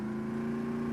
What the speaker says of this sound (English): There's that not really noisy engine vehicle